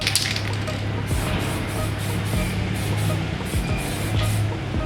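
A spray can of fluorescent yellow paint hisses in a series of short bursts with brief pauses between them, close up and steady, sprayed onto car brake calipers, with faint clicks and rustling underneath.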